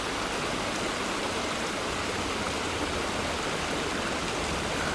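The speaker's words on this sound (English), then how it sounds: "casting it into the big tongues of white foamy running water and letting the current" A river's white, foamy current rushes past in a dense, unbroken roar of water, close and steady throughout with no voices.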